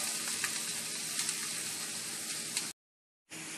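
Onion frying in olive oil in an already hot pan at medium-high heat, a dense, close, steady sizzle with faint crackles that drops out briefly near the end, no talking.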